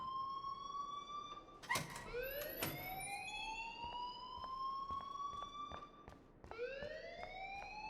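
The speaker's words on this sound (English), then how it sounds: "please turn off that alarm since that's your job" A fire alarm rings in the Life is Strange video game, a steady electronic tone whose pitch sweeps up and repeats in rising whoops, loud and continuous, with a few sharp knocks breaking through.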